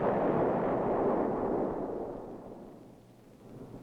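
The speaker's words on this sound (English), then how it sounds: "Reliable 105-millimeter howitzer" A 105-millimeter howitzer round booms as a deep, broad rumble that swells at the start, rolls on, and fades over several seconds, heard from a distance with no voices.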